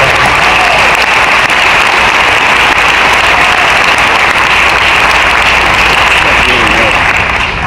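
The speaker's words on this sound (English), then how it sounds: "give yourself a round of applause for that." An audience at a Kyani Team Fusion homecoming event claps in loud, sustained applause that fills the hall steadily for several seconds, dense and even from start to finish.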